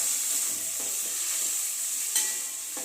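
Onions frying in a pan for raw mango rice, a steady close sizzle with occasional soft stirring scrapes and no talking.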